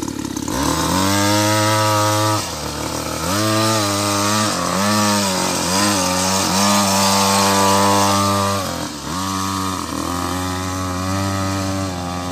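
Small racing motorcycle revving steadily at a go-kart style circuit, a loud, close buzzing engine with repeated rises and dips in pitch as the throttle is blipped, running continuously with no talking.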